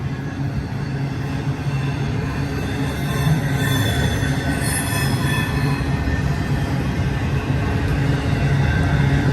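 Freight trains backed up westbound at Cajon, with loud, sustained metallic wheel squeal riding over a constant rumble of rolling railcars, close by and continuous.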